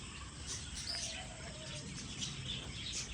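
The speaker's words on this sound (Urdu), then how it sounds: "پرندوں کی آوازیں ہیں جی" Birds sing outdoors with soft, scattered chirps and tweets over a low background hum. The calls are faint and fairly distant, and no one speaks.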